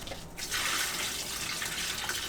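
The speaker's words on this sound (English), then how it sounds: "So we'll add our hot water" Hot water gushes into the plastic tub of a tiny EcoSpin hand-crank washing machine on a cold day outdoors, a steady close pour after a brief quiet start, with no voices.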